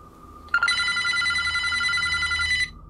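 An old telephone's bell rings in one steady, loud, continuous burst lasting about two seconds, bright and metallic, with a quiet room behind it.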